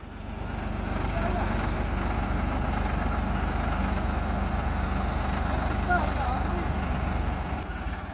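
A Ford tractor engine runs steadily and loudly nearby, a dense low diesel chug that holds for about eight seconds before easing slightly at the end, with talk mixed in.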